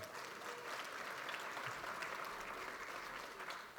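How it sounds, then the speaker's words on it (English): A crowd at a 2023 real estate symposium claps steadily and loudly throughout, a dense, sustained round of applause with no clear voices on top. "A big round of applause."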